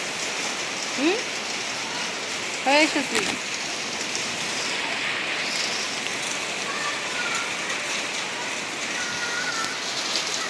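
Heavy rain pours steadily with a continuous dense hiss close by, while a person briefly speaks over it.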